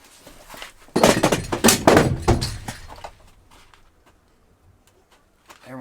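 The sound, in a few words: fire extinguisher falling over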